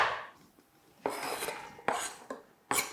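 A knife slicing vegetables at an angle on a cutting board for a Buddha bowl, three or four crisp separate chops spaced about a second apart, close and fairly quiet with no talking.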